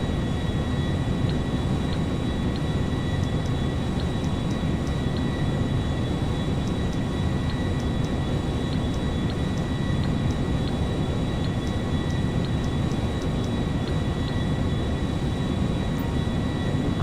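A large airplane in the game GTA 5 drones steadily and loudly, with a constant broadband engine roar and a faint high whine running through the whole stretch and no voices.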